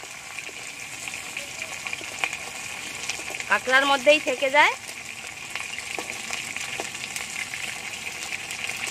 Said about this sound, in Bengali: কাঁকড়াগুলো মাছের মতো করে উল্টে নেব। এরকম করে ভাজলে কি হয়, ঘিটা বেশি ঘেটে যায় না,